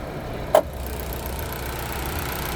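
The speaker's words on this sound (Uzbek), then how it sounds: "Mashina ishlab turibdi." A 2025 Chevrolet Cobalt running on methane idles with a steady, low, even engine hum, interrupted once by a single sharp click near the start; no voices.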